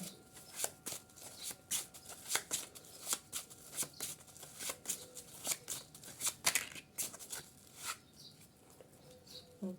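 A tarot card deck is shuffled close by in quick, crisp riffling bursts that repeat at an irregular pace, each a short papery flutter, with no voice over them.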